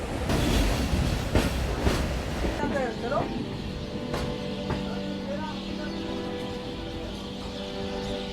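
A train pulls into Lumding railway station in Assam on an evening run from Dibrugarh, with steady rumbling rail noise, a couple of squealing tones and a sustained hum of the slowing carriages, with people talking nearby.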